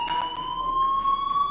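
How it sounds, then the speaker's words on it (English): Fire alarm in the video game Life is Strange, a steady high electronic ringing tone sounding continuously at moderate volume, with no other notable sounds. "Hey, do you hear that fire alarm?"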